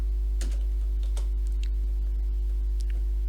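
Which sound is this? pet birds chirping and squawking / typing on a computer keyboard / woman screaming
typing on a computer keyboard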